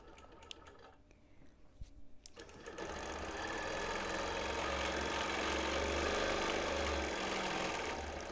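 A sewing machine runs steadily while straight-line quilting, starting with a few quieter stops and clicks before settling into a continuous close mechanical whir of stitching.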